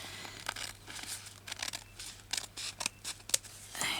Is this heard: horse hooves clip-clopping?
no